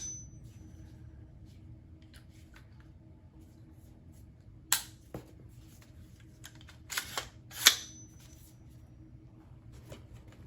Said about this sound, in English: We'll do a trigger pull test.